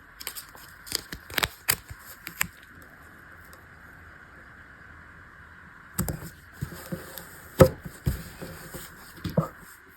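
A plastic packet holding Mickey Mouse paper wallpapers for a paper Nintendo craft is peeled open, giving short crinkly tearing bursts in two clusters, separated by a quiet stretch with a steady faint hum in the background.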